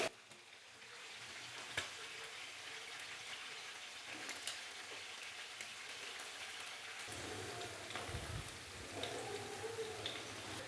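Chicken frying in hot oil for ginger chicken gives a steady, fairly quiet crackling sizzle throughout, with a few sharp clinks and scrapes as pieces are lifted out of the pan.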